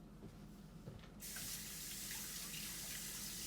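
Water running from a kitchen sink tap during washing, turning on suddenly after a second of quieter background and then pouring steadily and loudly to the end.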